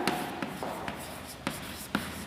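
Chalk or marker writing on a board during a lecture, heard as soft, close scratching strokes punctuated by about five sharper taps, with no talking over it.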